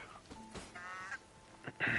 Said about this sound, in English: Look at these geese.